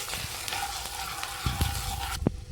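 Spice paste fries in a pan while being stirred, giving a loud, close, continuous sizzle broken by occasional scraping knocks of the spoon, with a short hiss near the end.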